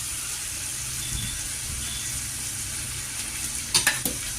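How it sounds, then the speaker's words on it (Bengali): Salted chillies frying in a pan, a steady close sizzle with occasional scrapes of stirring and a few sharper clinks near the end. "লঙ্কাতে একটু লবণ ছিটিয়ে লঙ্কাটা একটুখানি নাড়িয়ে রেখে দেবো"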